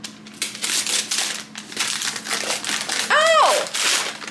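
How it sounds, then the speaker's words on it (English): A wrapped book is torn open with loud, close crinkling and crumpling of paper in bursts, ending in one sharp rip. A voice speaks faintly in the background. "Let's unwrap the other one."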